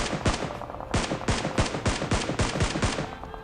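Gunfire in the battle royale shooter PUBG Mobile: a close, loud string of about a dozen sharp shots in quick, slightly uneven bursts, with no talk over them.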